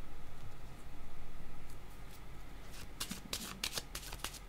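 Tarot cards are shuffled by hand in a quiet room: a soft, steady riffling begins, then crisp, rapid snaps and flicks of the cards come close up in the last second and a half.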